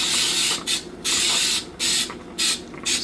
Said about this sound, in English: Spray this to prevent sticking.